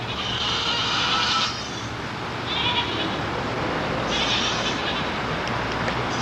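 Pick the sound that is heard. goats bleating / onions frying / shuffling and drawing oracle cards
goats bleating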